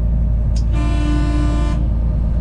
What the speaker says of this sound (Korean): 오늘따라 빵빵 많이 하네요.